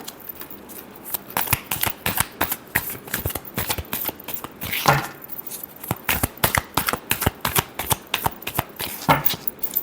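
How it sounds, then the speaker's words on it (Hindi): Tarot cards are shuffled by hand in a long run of quick, crisp riffling snaps and flutters, close and steady, with a couple of slightly heavier slaps along the way. "Last shuffle."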